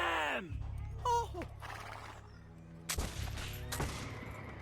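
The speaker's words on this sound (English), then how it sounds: "Are they mad shooting at the gunpowder?" Gunfire aimed at gunpowder in a game scene, with a horse neighing and hooves early on, then sharp loud shots and a rolling burst of fire, voices talking around it.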